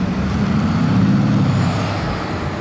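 A Bugatti Veyron Grand Sport at the Monaco Historic Grand Prix gives a short burst of acceleration nearby, a loud, deep engine roar that swells and then eases off, with no voices.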